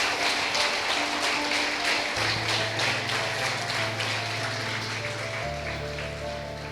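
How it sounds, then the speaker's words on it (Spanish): Church congregation applauding during a Sunday sermon, steady broad clapping with sustained organ or keyboard tones underneath, slowly tapering. "Dale un fuerte aplauso a Cristo."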